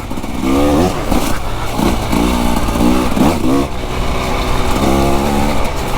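A KTM motorcycle engine revs while riding, loud and close, rising and falling in quick repeated surges over a steady rumbling drone.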